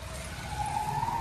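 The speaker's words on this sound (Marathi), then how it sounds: "रिक्षा आलेली" An auto rickshaw arrives with a short burst of close engine hum and a faintly rising whine.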